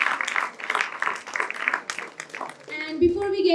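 An audience at a morning session of talks applauds a contestant on stage, a dense burst of clapping that swells and fades over about three seconds before music starts.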